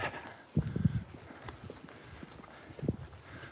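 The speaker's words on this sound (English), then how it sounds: "Ah, there's the horses." Horses walk along a forest track in the Scottish Borders, their hooves giving a few soft, irregular clops and thuds at moderate distance over quiet outdoor ambience.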